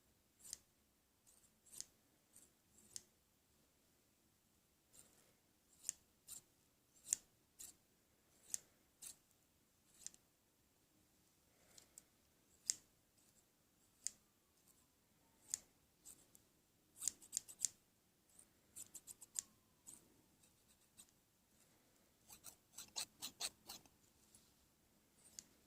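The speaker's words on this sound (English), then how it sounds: "I like the gentle snipping and sort of that sound of the blades just going back and forth" Scissor blades snipping open and shut in the air without cutting anything: soft, crisp snips in irregular bursts and clusters, close and quiet, with no talking.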